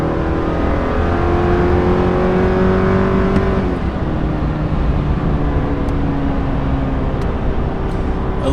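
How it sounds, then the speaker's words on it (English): A 2022 Chevy Silverado Custom with a four-cylinder turbo engine accelerates under load, a loud steady drone with rising tonal pitch that shifts down briefly mid-run, plus faint turbo whine. "You have some turbo noise, and that's probably about it."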